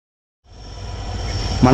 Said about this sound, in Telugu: ట్రైన్ మెల్లగా కాచిగూడ స్టేషన్లోకి వెళ్ళిపోతుంది